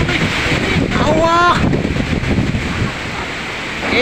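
Strong wind from Typhoon Odette roars and buffets the microphone in heavy gusts, while a voice briefly calls out near the start.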